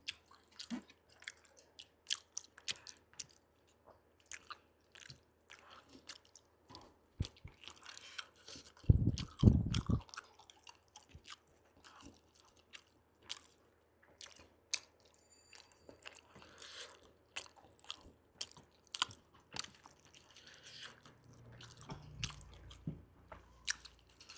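Someone eats rice with chicken gizzard curry, dal chorchori and potato pakora, with close, quiet chewing, wet squishing and occasional crunchy bites, plus a louder burst of handling noise midway.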